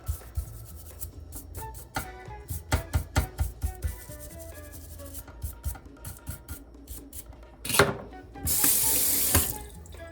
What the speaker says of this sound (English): I'll just wash a tiny bit of the solution off